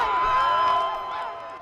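A crowd gathered outside a courthouse whoops and cheers a guilty verdict, a burst of shouting voices at moderate distance that swells, then tapers off.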